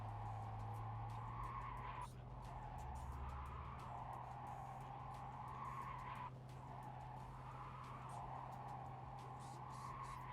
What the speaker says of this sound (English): why do I hear like tires screeching?